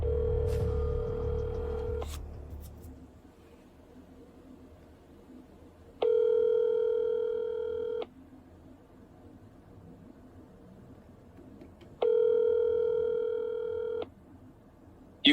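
Outgoing telephone call with brief dialing tones, then two long evenly spaced ringback tones a few seconds apart, clear and moderately loud against quiet line hiss.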